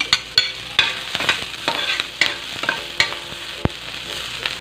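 Garlic and chili fry in a little oil for a braised chicken feet dish, a close sizzle punctuated by repeated sharp scrapes and taps of stirring.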